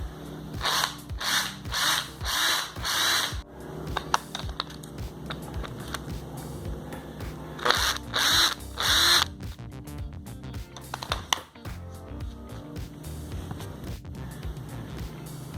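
Power drill boring holes through MDF for a mirrored coffee table, with repeated loud high-pitched bursts of a few seconds each and quieter handling noise and short buzzes in between.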